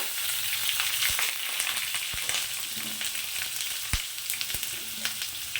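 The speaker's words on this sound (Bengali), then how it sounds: "এই প্রথমেই আমি কড়াইয়ের মধ্যে দিয়ে দিচ্ছি বেগুন তো বেগুনগুলো আমি একটু লাল লাল করে ভেজে নেব" Eggplant pieces frying in hot mustard oil in a wok, a steady dense sizzle with occasional sharp pops and crackles throughout, close and continuous with no talking.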